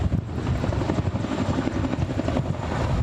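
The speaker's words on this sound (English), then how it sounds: "helping hands coming in the form of helicopters from the Connecticut National Guard as they fight the fire from above" Connecticut National Guard helicopters fighting a fire and dropping water from Silver Lake, a steady loud rotor thump and engine roar throughout with no talk.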